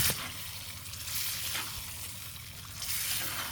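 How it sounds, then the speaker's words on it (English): Beans with diced tomatoes and tomato sauce simmer and sizzle in a pot over a camp cook fire, a steady close bubbling hiss with no voices. "We'll let that simmer for about maybe 15 minutes"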